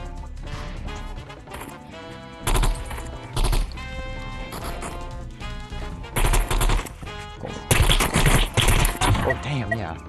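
Burst rifle fire in the VR video game Animal Rivals, with quick clusters of loud shots popping in short bursts over background music and game sounds.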